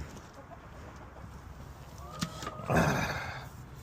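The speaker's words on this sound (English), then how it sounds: "he is just a little rooster" A small rooster gives a short burst of clucking over a low, steady background, with a louder squawk near the end.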